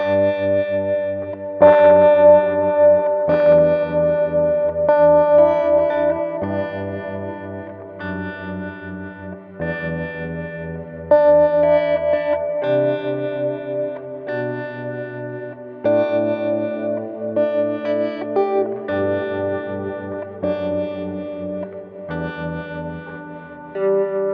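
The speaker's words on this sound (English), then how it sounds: "I will use that here with my favorite type of tremolo, harmonic tremolo" Electric guitar chords pulse with a smooth, wavering harmonic tremolo from a pedal and a wash of reverb, played alone at a moderate, steady volume.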